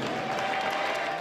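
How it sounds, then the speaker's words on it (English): Crowd on its feet applauding at a high school basketball senior night for Lake Oswego, a steady wash of clapping and cheering throughout the brief moment. "Lake Oswego's senior night brought the crowd to its feet"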